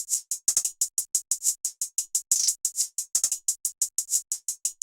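Electronic hi-hat run through Effectrix effects, a busy stuttering pattern of crisp ticks with uneven spacing, sudden bursts, rolls and smeared noisy hits, loud and alone with no talk.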